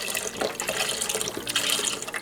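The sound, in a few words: beef broth poured from a carton into a stew pot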